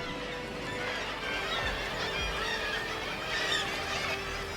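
Flamingos at Lake Salinas in Arequipa, Peru, give honking, goose-like calls over a steady outdoor background, moderately distant, with no talking.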